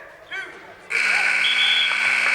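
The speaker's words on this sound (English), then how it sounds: "Saved by the buzzer." A loud, harsh buzzer sounds at a high school varsity wrestling match, cutting in abruptly and holding steady for over a second, after a brief commentator voice.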